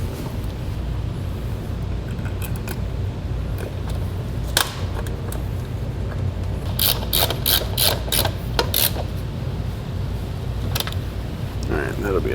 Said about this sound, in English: And place it on that stud and tighten it down.